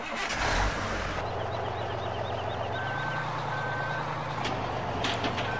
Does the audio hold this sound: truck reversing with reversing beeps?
yes